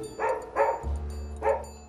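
Pug dogs bark three times in short, fairly close bursts, with a low steady hum running beneath the later barks.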